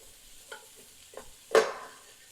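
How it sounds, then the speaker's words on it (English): Ginger and other ingredients get a brief stir in hot oil in a soup pot: a few soft scrapes followed by one louder clatter, close up, over a quiet background. "So then we're just going to give this a little stir."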